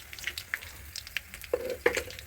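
Chillies, coriander leaves and salt frying for lemon rice, a soft close crackle and sizzle of oil with a few faint clinks and stirring scrapes, quiet and without talk.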